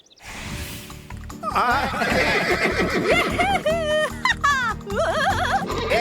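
Several loud whinnies from an unruly horse rise and fall in quick succession in a film scene, over thudding hooves and a busy background of voices.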